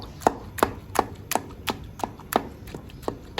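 Roasted eggplant being mashed for baingan bharta in a separate pot, giving about nine evenly spaced, sharp thudding strikes one after another, with no talking.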